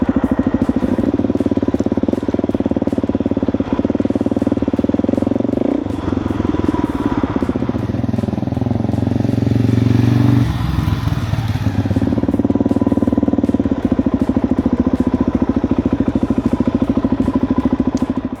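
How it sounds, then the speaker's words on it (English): A Suzuki DR-Z 4S motorcycle fitted with a Yoshimura exhaust runs close by, its thumping single-cylinder beat holding steady with a brief dip and blip of throttle midway. "That Yosh exhaust sounds awesome on here."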